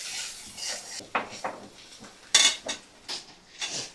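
Metal utensil scraping and clattering against a pan while ginger-garlic and cumin spice paste is stirred and fried, a series of close, irregular scrapes and knocks with no talk.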